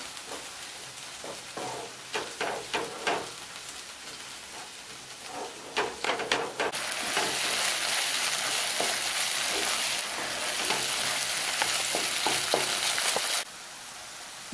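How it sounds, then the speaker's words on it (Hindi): Masala spices fry in oil over a medium flame for a potato and pea curry. Scattered stirring clatters come first, then a loud, continuous sizzle builds and holds before dropping away near the end. "इस मसाले को हमको तब तक भूनना है जब तक कि मसाला तेल ना छोड़ दे।"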